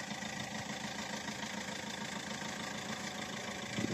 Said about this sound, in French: On laisse le moteur tourner, le filtre à air s'adapter.